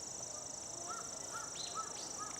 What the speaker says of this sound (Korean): 소리도 지금 새소리 지금 지금 청명하게 다 잡히거든요